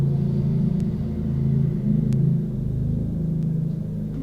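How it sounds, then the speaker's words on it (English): Steady engine drone of a lawnmower running outdoors, a constant low rumble at moderate distance throughout, with a few faint clicks over it and no talk. "You can hear the lawnmower outside."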